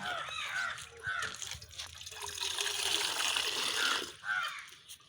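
Water trickles and pours onto the soil in a flower pot made from an old roof tile, close by and soft, with crows cawing nearby in the background.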